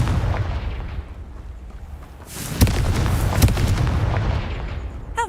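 Confringo blasting spell going off in the game Hogwarts Legacy, a loud booming burst over a dense, rumbling game soundscape with crackling debris, continuous and close, no speech.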